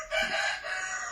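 A rooster crows once, a loud, close, drawn-out call that rises and then trails off, with no talk over it.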